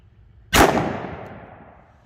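A single sharp gunshot from a Colt Delta Elite 10mm pistol firing a Hornady Critical Duty 175-grain round, a loud close crack with a reverberant tail decaying over about a second and a half.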